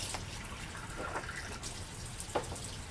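Enagic Kangen water ionizer (SD501) dispensing water at its 9.5 setting: a soft, steady stream of running water with faint splashes, quiet and close, no speech.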